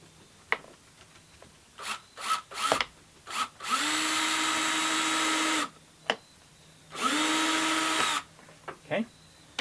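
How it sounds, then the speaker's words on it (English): A power drill with a bit bores starter holes for a solar light mounting plate: two sustained whirring runs of about two seconds each, separated by short bursts, clicks and handling noises. "I'm going to use a drill with a drill bit to start these holes"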